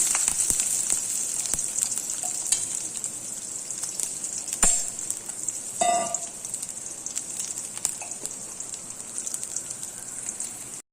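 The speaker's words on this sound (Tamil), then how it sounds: "எண்ணெய் ஊற்றி கடுகு போட்டிருக்கேன். கருவேப்பிலை, வெங்காயம்," Mustard seeds, curry leaves and onion frying in hot oil in a kadai, a steady bright crackling sizzle throughout with a few sharper pops and spits, close and fairly quiet.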